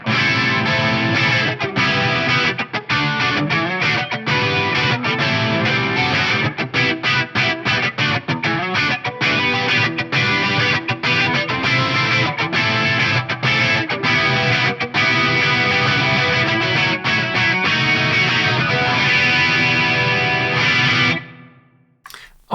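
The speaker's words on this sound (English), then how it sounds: "This gives you a really nice wide lush chorus." Distorted electric guitar through an FM3 with a wide, shimmering chorus effect plays continuously, full and lush, then cuts off abruptly near the end.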